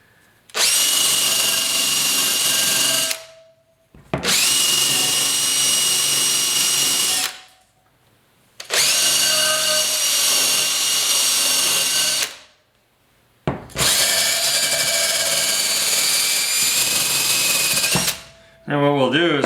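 A power tool polishes rust off the wheel of a 1974 Yamaha RS100 motorcycle, whirring loudly and close in four long sustained runs separated by brief pauses, with a short scrape at the very end.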